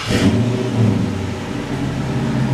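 A 5.7L Dodge Charger engine, just fitted with a new O2 sensor, cranks and catches, then settles into a steady, loud idle close by, with no talking.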